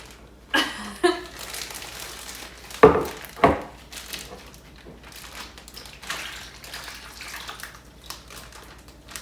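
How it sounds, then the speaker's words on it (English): Teriyaki marinade sloshing and glugging into a crinkly plastic zip bag in a few short bursts, with rustling between pours. "now let's try to pour it in the bag without spilling it"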